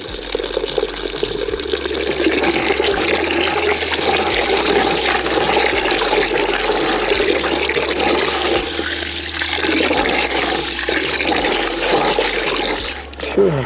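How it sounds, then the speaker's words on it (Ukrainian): Cold tap water runs and splashes steadily over young pine cones being rinsed, a continuous loud gushing that stops near the end. "Зараз треба його помити ретельно під холодною водою."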